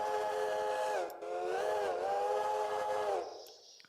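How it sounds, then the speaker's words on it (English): A locomotive steam whistle from a whistle mod in the Railroader video game blows loud and sustained for about three seconds, dips briefly near the start, then cuts off into a fading hiss. "the whistles on some of these locomotives have changed"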